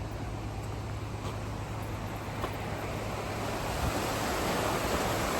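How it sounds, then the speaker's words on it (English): Ella's Brook near Skipton runs full after heavy rain, a steady broadband rush of water that holds constant and swells slightly toward the end, with no voices. "Ella's Brook is running with all that water."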